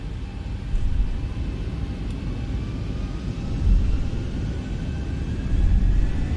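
Engines of a Zibo Boeing 737 in X-Plane 11 spool up to takeoff power for departure from Birmingham, a steady, loud, low roar that swells in waves, with no voices.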